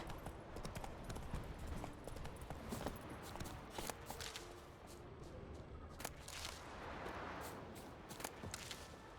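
Roach, the horse in The Witcher 3, gallops in a steady stream of hoofbeats that runs from start to finish, with a dense, busy game soundscape layered under it.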